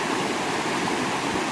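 Water rushing steadily along a stream near a waterfall at a forest campsite by a canal, a dense continuous close-up roar with no voices.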